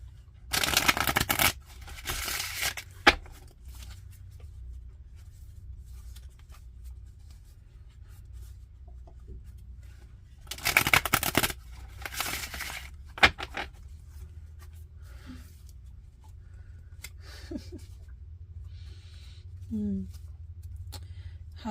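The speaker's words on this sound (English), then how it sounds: "and shuffle again." A deck of tarot-style cards is shuffled in two brisk, crisp bursts several seconds apart, with quieter handling rustles and a soft speaking voice in the gaps between.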